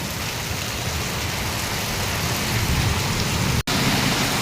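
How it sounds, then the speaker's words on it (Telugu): Heavy rain pours down in a steady, dense hiss without letup, broken only by a momentary dropout near the end; no voices. "ఏం వాన ఫ్రెండ్ అసలు అగుతుంది అనుకున్నా"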